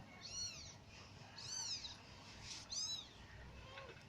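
A cat meows indoors three times, the calls spaced about a second apart and moderately loud over a low background hum.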